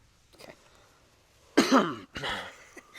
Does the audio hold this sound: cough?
yes